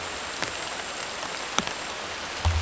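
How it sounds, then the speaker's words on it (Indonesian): Heavy rain falls at a campsite as a steady even hiss, with a few brief knocks and drips standing out now and then. "Ini hujannya makin rapat ya, ngeri teman-teman."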